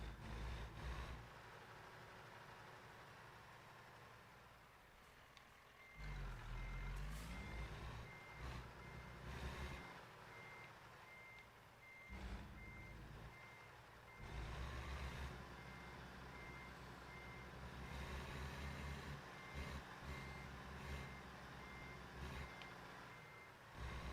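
A truck reversing in the game American Truck Simulator sends out a long run of evenly spaced reversing beeps over a low, rumbling engine that swells and eases as it maneuvers.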